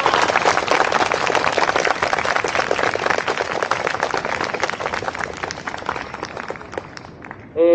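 Outdoor rally crowd at a university tuition-hike protest in front of Yasuda Auditorium, clapping in steady, dense applause for several seconds that thins toward the end, with a faint voice at the close.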